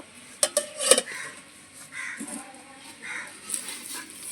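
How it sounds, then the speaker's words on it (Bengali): A lid goes onto a pot of simmering mustard hilsa curry with a few quick metallic clinks and clatters near the start, followed by quieter kitchen ambience and faint background voices. "এবারে পাঁচ মিনিট একটু ফুটিয়ে নেব এবার ঢাকনাটা দিয়ে ঢেকে দেব"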